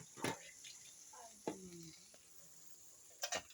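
An egg frying in a pan in a home kitchen gives a soft, faint sizzle under a few short sharp clatters of utensil against pan, with quiet background hiss throughout.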